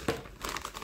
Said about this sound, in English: Let's go into the final one, which is in a package which I'll cut open.